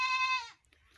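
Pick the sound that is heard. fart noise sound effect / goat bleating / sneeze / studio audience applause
goat bleating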